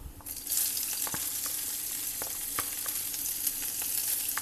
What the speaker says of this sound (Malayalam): ഈ ഉള്ളിയും ജസ്റ്റ് ഒരു ലൈറ്റ് ഗോൾഡൻ ബ്രൗൺ കളറൊക്കെ ആവുന്ന വരെ നമ്മൾ വഴറ്റി കൊടുക്കുക